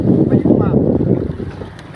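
A motorboat passes on the open sea near a fishing boat, its low engine rumble strong at first and then easing off, with gusty wind noise buffeting the microphone.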